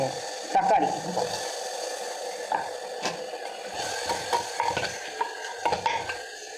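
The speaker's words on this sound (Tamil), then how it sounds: "இது நல்லா இஞ்சி பூண்டு பேஸ்ட்டில் கிளறப்போம் பாருங்கள்" Ginger garlic paste is stirred in a cooking pot, with a soft sizzle under repeated scraping strokes and light metallic clinks, close up and fairly quiet.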